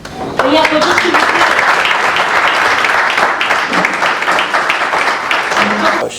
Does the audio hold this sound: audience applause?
yes